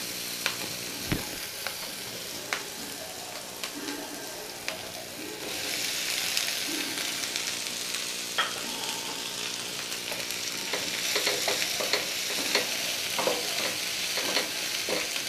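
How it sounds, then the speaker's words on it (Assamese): Boiled potatoes tumble into a hot pan and get stir-fried, with a soft continuous frying sizzle under repeated scraping and clacking of a spatula against the pan, growing busier toward the end. "এতিয়া মই ইয়াতে বইল কৰি থোৱা আলুখিনি দি দিম"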